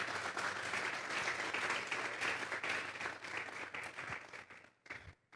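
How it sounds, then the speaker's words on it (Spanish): A congregation at an afternoon church service claps in a full, steady round that holds for several seconds, then tapers into a few last claps and fades. "Vamos a darle un fuerte aplauso pues al Señor esta tarde"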